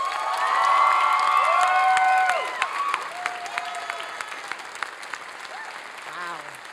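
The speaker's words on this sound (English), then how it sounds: "Could we have another round of applause for those two amazing?" Commencement audience at a 2022 Ethnic Studies graduation bursts into loud applause with whoops and cheers, then thins to scattered clapping and a few distant shouts near the end.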